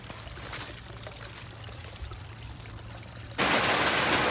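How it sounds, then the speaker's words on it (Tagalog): Water drains from a rain-soaked pechay and mustard field in a continuous rushing, pouring wash that swells suddenly louder and brighter near the end, with no voices. "At magdi-drain ako ng tubig."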